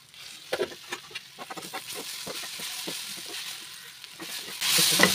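Tomatoes frying in a pan for a breakfast dish give a steady sizzle with scattered crackles and pops, rising to a louder hiss near the end, with no talk.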